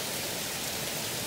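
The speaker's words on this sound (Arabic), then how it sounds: "أنا عمري في حياتي بجد ما شفت مطر بالكمية دي" Heavy rain pours down steadily during a storm in Egypt, a dense, unbroken hiss of water with no pauses and no voices.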